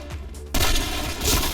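Gunfire in the video game Point Blank, a sudden loud burst of shots cutting in after a short lull and continuing as dense, rapid firing with a heavier blast near the end.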